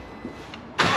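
A motorcycle engine cranks and fires up near the end of a brief moment, sounding as a sudden loud burst after a quiet stretch of faint background noise.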